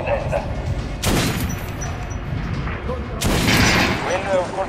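Two loud gunshots in Metro Last Light aimed at an armored target's head, each a sharp boom with a ringing tail, spaced about two seconds apart over steady game ambience and a voice speaking.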